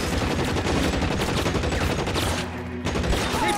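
Dense, sustained rifle gunfire from a shootout in the video game L.A. Noire, loud and near with overlapping shots, a brief lull, then more firing.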